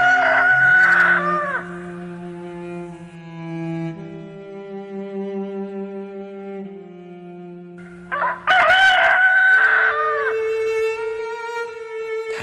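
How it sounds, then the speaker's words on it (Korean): A rooster crows loudly and close by, two long cock-a-doodle-doo calls separated by quieter clucking and low bird murmurs, with no voices. "닭이 울었습니다."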